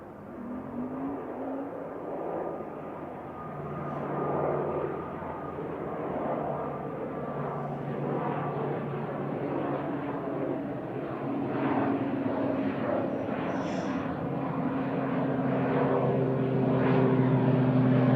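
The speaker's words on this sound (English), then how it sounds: "TUI Boeing 787 late arrival" A TUI Boeing 787 arriving at Manchester Airport, a steady jet roar that slowly swells and grows louder over the whole stretch, with a rising whine over the rumble.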